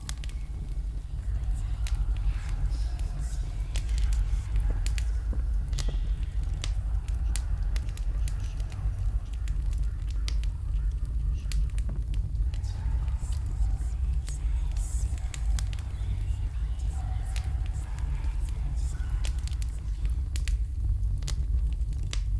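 A fire crackles steadily in a fireplace in The Book of Unwritten Tales 2, with dense, continuous snaps and pops over a low rumble for the whole stretch.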